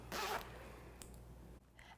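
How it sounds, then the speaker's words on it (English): A zipper on an oilcloth sewing project is unzipped in one quick, close rasping pull, followed by a couple of faint handling clicks and rustles in a quiet room. "you can unzip your zipper too, if you don't want to have that in the way"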